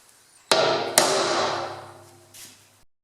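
Two sharp hammer blows drive a center punch into the metal of a home-built wheelbarrow, half a second apart, each ringing out and fading slowly, with a faint tap near the end.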